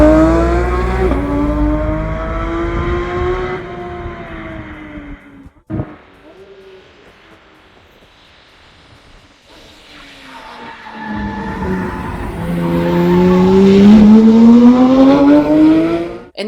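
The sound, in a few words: Porsche cars driven fast around track laps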